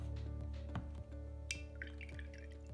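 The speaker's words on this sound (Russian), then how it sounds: "Хорошенечко смачиваем кисточку водой" Soft liquid drips and small splashes as a paintbrush is wetted in a cup of clean water for watercolour painting, several faint close-up taps and trickles over a quiet steady background hum.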